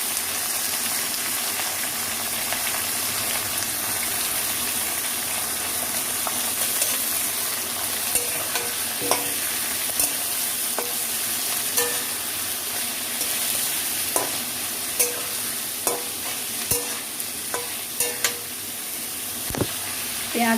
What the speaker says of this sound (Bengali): আলুটাকে 2 মিনিট মতো ভেজে নিয়ে আমি পেঁয়াজ কুচিগুলো দিয়ে দিচ্ছি